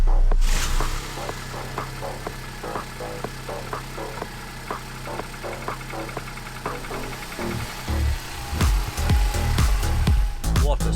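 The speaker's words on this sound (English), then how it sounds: "we're going to hear this monster 1 litre 12 valve run for the first time" A Vauxhall Corsa B 1-litre 12-valve engine runs close by with a steady, slightly rough buzzing idle, then grows louder with uneven bursts near the end.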